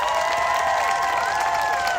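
A crowd at an outdoor pro-Palestine march in Washington, DC applauds and cheers for the speakers, a steady wash of clapping with tonal voices ringing over it.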